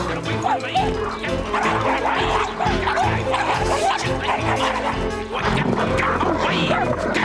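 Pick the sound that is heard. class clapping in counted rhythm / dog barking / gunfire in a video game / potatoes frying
dog barking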